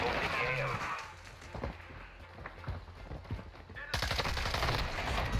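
Rapid gunfire from Call of Duty: Modern Warfare II multiplayer, with dense bursts of shots and a louder close volley near the end, mixed with game sounds and faint talk.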